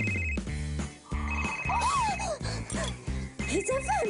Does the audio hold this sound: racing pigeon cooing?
no